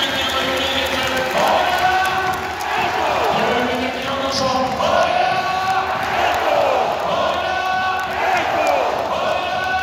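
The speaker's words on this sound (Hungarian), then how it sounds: "Nagy tapsot szeretnék kérni!" Arena crowd at a women's handball match in Győr cheering and roaring. A sustained, loud mass of voices swells in waves, with an announcer's amplified voice echoing over it.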